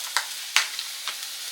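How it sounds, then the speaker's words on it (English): A pot roast seasoned with pepper and Lawry's sears in a Dutch oven, giving a quiet, steady sizzle with a few sharp crackling pops rising above it. "Gonna let it get a good sear on it."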